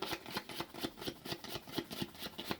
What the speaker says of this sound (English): Then we shuffle the enemy deck